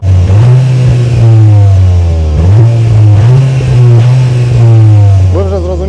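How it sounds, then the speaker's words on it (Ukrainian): A 2025 Cupra Leon's engine revs loudly and repeatedly, pitch climbing and dropping in several surges, with a deep throaty exhaust rumble close by. "Зараз я сяду в автомобіль і ви почуєте, як працює вихлопна система"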